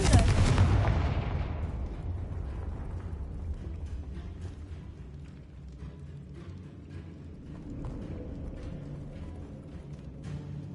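Fiery Confringo spell blast in the Hogwarts Legacy video game: a loud, broad burst at the start that rumbles and crackles, then settles into a sustained lower roar of game ambience.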